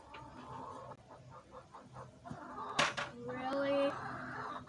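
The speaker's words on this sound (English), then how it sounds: "I don't really speak chicken, so I don't know what she's saying." A hen clucking on a homestead, a run of quick soft clucks followed by a longer drawn-out squawk, close and fairly faint over light background noise.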